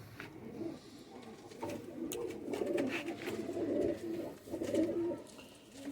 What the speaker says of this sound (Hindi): टैडी बड़े सादे से कबूतर हैं यार,